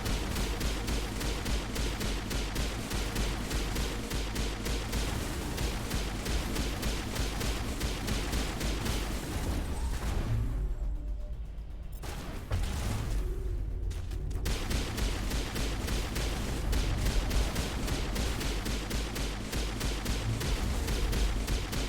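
Rapid, dense gunfire in the video game Mass Effect rattles almost continuously, broken by a brief lull before the bursts resume, loud and close with no talking.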